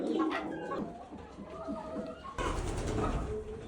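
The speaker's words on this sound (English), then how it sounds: "You know who else is inside today? These new baby pigeons." Young pigeons coo softly indoors at a ranch on a rainy day, low murmuring calls over a steady wash of rain and background noise.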